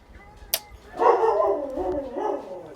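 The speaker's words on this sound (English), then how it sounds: "Sorry about my dog." A dog indoors gives a sharp yip followed by a drawn-out whining bark, moderately close, with no talking over it.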